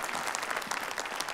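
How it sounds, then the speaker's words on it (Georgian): An audience applauding, a dense, even patter of many hands clapping at moderate distance, steady for the whole moment. "აპლოდისმენტები."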